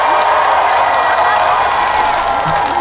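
A large crowd at a ramen festival concert in Busan claps and cheers steadily, a loud dense wash of applause with scattered whoops throughout.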